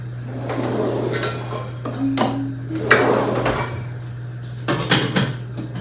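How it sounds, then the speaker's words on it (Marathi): A metal lid goes onto a cooking pot on the stove, with several clanks and clatters of cookware over a steady low hum, close by. "तर ही झाकणी ठेवली म्हणजे लीड ठेवलेली आहे"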